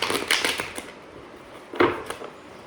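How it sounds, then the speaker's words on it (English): Tarot cards are shuffled close by in two short bursts of crisp, rapid riffling and flicking, with quieter shuffling between them. "Cleansing shuffle."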